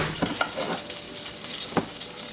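Shrimp dropped into melted, foamy butter in a preheated skillet: a steady close sizzle and crackle with a few soft clinks and stirring sounds on top, no talking.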